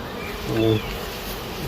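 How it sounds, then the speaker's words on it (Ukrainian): A steady, dense drone of honeybees buzzing around a hive house holding twelve colonies at an apiary in Germany, continuous and close, with a faint voice briefly audible. "Тут 12 зараз бджолосімей в цьому будиночку."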